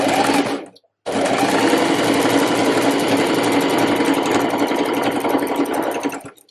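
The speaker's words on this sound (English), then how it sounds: "So I've got my machine set to a straight stitch, and I'm just going to start to follow it round with a 1 centimeter seam allowance." A sewing machine sews a straight-stitch seam on a reversible waistcoat. It gives a brief whir, stops for a moment, then hums steadily and loud for several seconds before halting.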